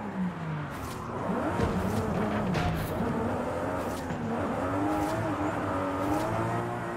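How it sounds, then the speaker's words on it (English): A Toyota A90 street drifting in Forza Horizon 5, its engine revving and rising and falling in pitch through the slides, with short bursts of tire squeal, loud and close throughout. "Doing some street drifting in the A90."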